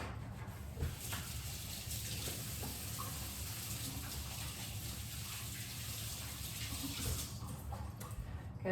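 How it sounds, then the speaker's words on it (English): Tap water runs steadily into a kitchen sink while hands are quickly washed beneath it, a close, continuous gushing with small splashy shifts and no talking. "I'm just gonna move this and give my hands a quick wash."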